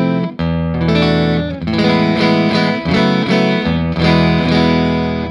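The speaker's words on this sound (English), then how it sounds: "So this clean sound, I'm using an Albert Lee SSS all stock, and it's running through to a Vase Tone Setter 18." Clean electric guitar, a stock Albert Lee SSS, played through a Tone Setter 18 amp, strummed chords ringing continuously and loud, up close, with no voices.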